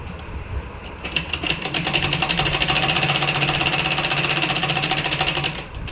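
A sewing machine stitches a salwar waistband, its rapid needle clatter starting after a brief pause and running steadily and fairly loud up close, with short lock-stitch stops implied by the work.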